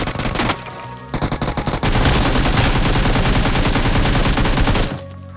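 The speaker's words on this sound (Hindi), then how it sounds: "मुझे यहाँ पे एक बंदा दिखा जो कि फायर कर रहा था, तो मैं डायरेक्ट उस पर चल गई रश करने" Rapid automatic gunfire in the mobile shooter BGMI, close and loud, with a short burst, a pause, then a sustained stream of shots lasting several seconds.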